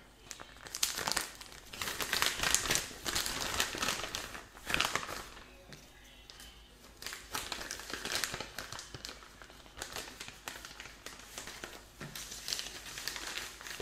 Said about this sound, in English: Then I think you put the sample in the bio bag.